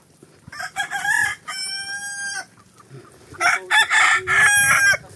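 Free-range country chickens clucking and crowing loudly up close in repeated bursts, with a rooster's cock-a-doodle-doo standing out amid the farmyard squawks.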